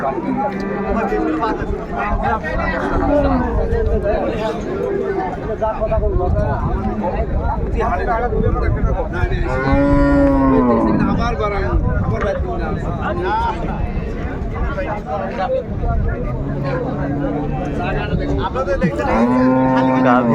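Cows and calves moo loudly and repeatedly at a busy rural cattle market in Dinajpur, with drawn-out calls rising above constant crowd chatter and people talking nearby.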